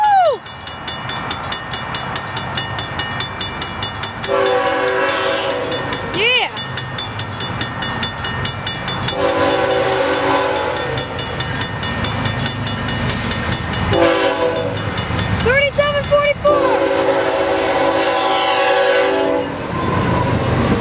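A BAR-SDG freight train rolls past at Rancho San Juan Capistrano, loud and close, its horn sounding in several long blasts over steady wheel and car rumble, with a voice briefly audible.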